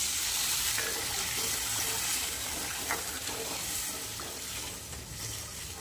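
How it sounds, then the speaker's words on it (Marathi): Water poured into a pan of spiced vegetable curry cooking on the stove makes a steady rushing hiss with light sizzling underneath, continuous and close. "पाणी टाकून घ्यायचं."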